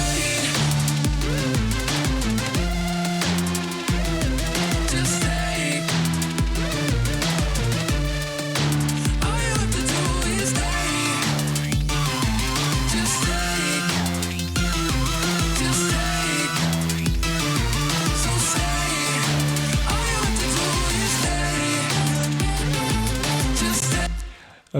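An EDM track plays continuously at full loudness, with several electronic parts combined: a steady four-on-the-floor kick, a repeating bass line, and bright layered synths throughout.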